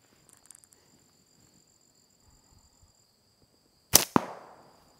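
Pocket Predator Hathcock target slingshot drawn and released: after near silence with faint creaking and a steady high tone, a single sharp snap of the shot rings out, followed by a brief decaying rattle.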